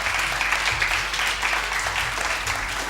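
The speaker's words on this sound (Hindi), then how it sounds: "इनके लिए बहुत सही तालियां" An audience at a televised Ramadan iftar show claps for blood donors, a loud, continuous roar of crowd applause with a low hum running underneath.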